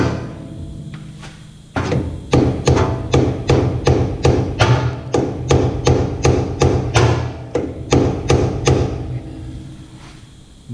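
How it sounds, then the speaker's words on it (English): Rapid, loud metallic hammer strikes, about twenty in a steady rhythm, splitting a nut on the solenoid cap of a Fox Live Valve shock from a Ford Raptor, close up and without talking. "just split that nut from the side"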